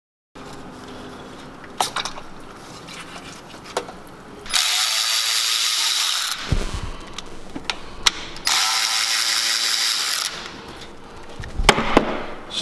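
A ratchet with a T30 bit backs out the fuel rail bolts on a Can-Am X3 engine, giving two loud, close runs of rapid metallic clicking, each about two seconds long, separated by scattered tool knocks and handling clatter.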